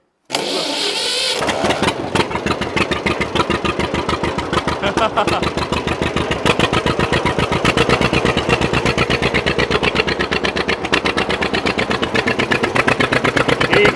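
An old 1944 John Deere tractor engine cranks and catches, then settles into a loud, rapid, steady chugging idle close by, with a brief laugh over it.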